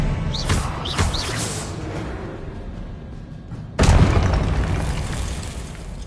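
In the video game Hogwarts Legacy, an Expelliarmus spell is cast with a deep booming blast, echoed by a second sharp explosive burst a few seconds later, set against a rumbling magical ambience.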